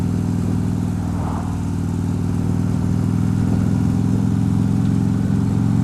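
A motorcycle (hog) engine runs steadily and loud up close, a continuous low throbbing rumble with a faint mechanical clatter and no change in pace throughout.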